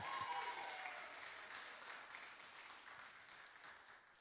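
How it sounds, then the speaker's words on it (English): Steady applause from a crowd at a publication celebration, moderately distant and fairly quiet, continuing evenly for several seconds. "Clap it up again for Damani, y'all."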